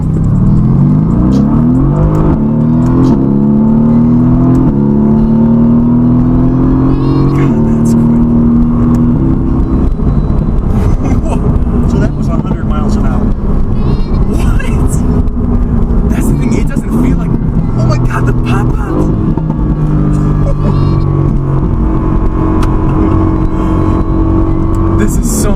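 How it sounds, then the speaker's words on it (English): A 2018 Mercedes-AMG GT S engine heard from inside the cabin, loud and continuous, rising and falling through revs as the car accelerates, with someone talking over it throughout. "The sound is so good in the cabin."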